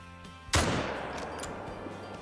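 A single .303 rifle shot in the hunting game theHunter: Call of the Wild, a sharp close blast followed by a long rolling echo that fades slowly.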